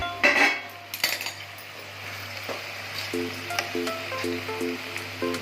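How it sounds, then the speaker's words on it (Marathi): A metal lid clinks as it comes off a kadhai of cooking vegetable dish, with a few sharp metallic knocks early and lighter utensil taps after, close and fairly quiet over a low hum. "भाजीवर झाकण काढून घेऊया"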